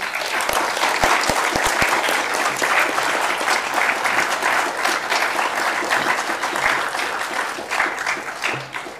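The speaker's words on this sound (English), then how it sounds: "Shall we give a round of applause for our winner" Sustained applause fills an auditorium at the 2021 Chameli Devi Jain Award ceremony, a dense crowd clapping steadily and loudly for the winner for the whole stretch with no break.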